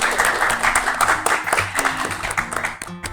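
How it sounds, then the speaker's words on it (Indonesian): An audience at a Banjar stand-up comedy show applauding, a dense burst of clapping that runs the whole moment and tapers off at the end, with some voices mixed in. "Tepuk tangan dulu untuk mereka."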